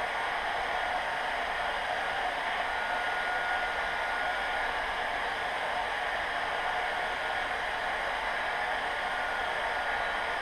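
A heat gun blows hot air onto a plastic fender for a Zforce 800, making a loud, steady hiss that holds unchanged for about ten seconds with no speech.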